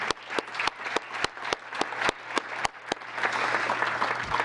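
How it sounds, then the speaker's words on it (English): The audience at a town council meeting claps for a group of young scouts. Steady applause with distinct, regular hand claps stands out above a dense, continuous crowd patter. "if we could have a round of applause for the future leaders of Gilbert"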